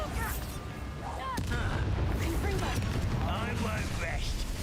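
A Bombarda spell exploding in the game Hogwarts Legacy on Switch: a sharp blast followed by a sustained rumbling roar under game voices and effects.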